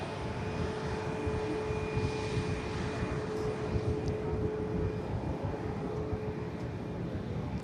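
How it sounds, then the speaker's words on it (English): A Hainan Airlines airliner departing Manchester Airport's south runway for Beijing produces a distant, continuous engine roar with a steady whine, broad and even throughout, with no voices. "the Hainan is about to depart on the south runway to Beijing"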